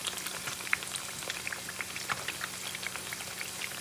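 Plantain slices frying in a pan, a dense, continuous crackling sizzle with fine popping bubbles, close and steady throughout.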